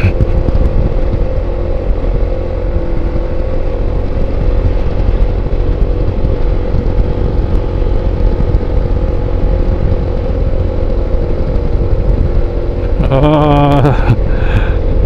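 An XRM TMX 125 motorcycle labors in first gear up a very steep road, its engine droning steadily and strained close by, with a brief shift in tone near the end.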